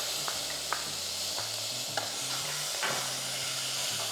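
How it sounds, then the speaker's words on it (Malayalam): Chopped tomato is added to a sizzling pan for dal khichdi and stirred, giving a steady hiss with a few sharp clicks and scrapes of the spoon on the pan. "ഇതിലേക്ക് ഒരു വലിയ ടൊമാറ്റോ ചോപ്പ് ചെയ്തതോടെ ചേർക്കാം"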